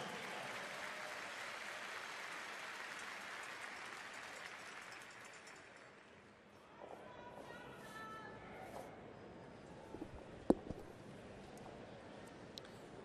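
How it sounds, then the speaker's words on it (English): An arena crowd at a world men's curling championship semifinal between Scotland and Canada applauds steadily, fading after several seconds, then an announcer speaks over quieter arena ambience with a few sharp knocks. "Let's give a big round of applause."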